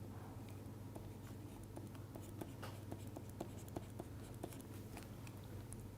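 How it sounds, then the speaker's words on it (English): Chalk or pen scratches out an equation on a board during a physics lecture, a run of quick faint taps and strokes over a low steady hum. "I am going to write down this partition function in the denominator"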